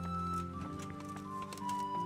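A horse in Kingdom Come: Deliverance makes soft clip-clop hoofbeats, faint and intermittent beneath a steady tonal music bed.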